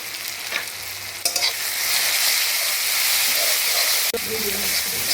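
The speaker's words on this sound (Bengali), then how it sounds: "পেঁয়াজটা ভাজা হয়ে গেছে, আমি একটু মশলা দিয়ে" Onions and spices fry in a pan, a steady close sizzle and hiss with a couple of sharp stirring clinks and scrapes.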